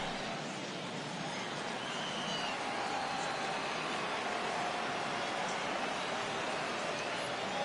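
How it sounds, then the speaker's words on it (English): Baseball video game stadium crowd noise, a steady dense roar of many fans rising slightly as they stand for a full count, continuous and loud throughout with no talking. "Crowd gets up for the 3-2."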